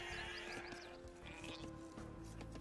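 Sheep bleat faintly in a strategy video game, a few short wavering cries heard under a steady hum of game ambience and music.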